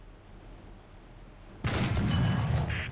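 A tank cannon fires in the video game War Thunder, one loud sudden blast after a quiet engine hum, followed by a rumbling tail and mechanical clatter.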